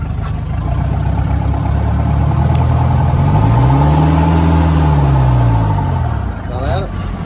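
Car engine revving hard as the driver tries to accelerate a stuck vehicle with the handbrake pulled, a loud sustained drone that swells and sags over several seconds, with people talking over it.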